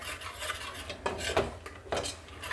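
Spice powders for chana masala stirred fast in a pan: close, rhythmic rasping scrapes of a spoon across the pan surface, fairly quiet and with no voices.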